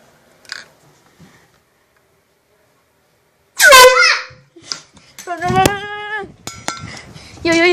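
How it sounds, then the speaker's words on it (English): A loud air horn blasts suddenly at close range as a prank on a young girl, a long blaring tone followed by a child's startled cries and voices talking. "Taking the air horn right now."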